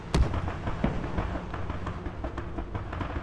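Friendly tank firing in Squad, a sharp distant blast followed by scattered crackling gunfire and dull thumps in the background.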